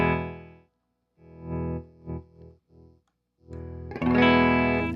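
ESP Mirage Deluxe electric guitar with a DiMarzio pickup, played clean through effects in several separate sustained chords and short notes with gaps of silence, then a louder, brighter strummed chord at the end.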